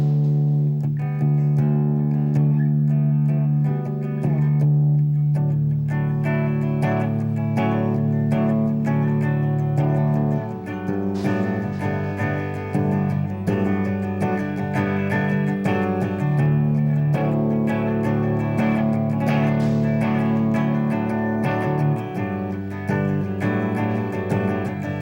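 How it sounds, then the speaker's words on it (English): A melodic electric guitar riff played steadily, a clean tone that turns thicker and more distorted partway through, with sustained ringing notes. "a real melodic sound, but then distorting it so it comes across a little heavier"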